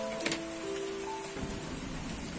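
Heavy rain falls on a chicken coop with a steady, even hiss of drops and a couple of faint tapping sounds.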